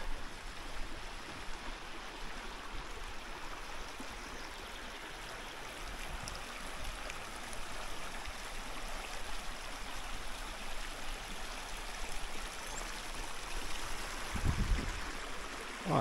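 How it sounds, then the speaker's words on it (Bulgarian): A small river flowing under a bridge beside a fountain gazebo, a steady rushing, burbling stream sound, continuous and moderately close, with no voices. "Иде река."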